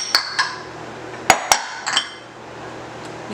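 A spoon clinks sharply against a bowl while spelt flour, baking powder and baking soda are mixed for whole grain sweet potato biscuits, with a few scattered clinks, some in quick pairs, over quiet.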